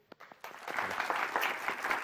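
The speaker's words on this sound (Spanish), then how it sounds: "Vamos a recibir a Carlos con este aplauso" A television game-show studio audience breaks into applause to welcome contestant Carlos, starting after a brief quiet moment and then holding as a steady, dense wash of clapping.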